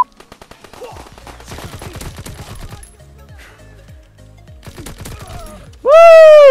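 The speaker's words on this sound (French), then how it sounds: "on va utiliser ça, le pistolet mitrailleur" Rapid submachine gun bursts ring out in a Call of Duty WWII multiplayer match, loud close repeated volleys with a pause between, ending in a sharp sweeping game sound effect; a voice is faintly present.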